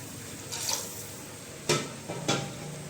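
Buttermilk going into a pan of Kathiyawadi dhokli curry, a faint simmering sizzle with a few brief sharp clinks and splashy stirring strokes, quiet and without talking.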